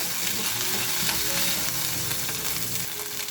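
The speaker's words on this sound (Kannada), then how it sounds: "ಶುಂಠಿ ಬೆಳ್ಳುಳ್ಳಿದ ಹಸಿ ವಾಸನೆ ಇರುತ್ತಲ್ಲ ಅದು ಹೋಗೋ ತನಕ ಸ್ವಲ್ಪ ಫ್ರೈ ಮಾಡ್ಕೋಬೇಕು" Ginger and garlic fry on a medium flame in a constant, dense sizzle that stays even and close throughout, with no talking.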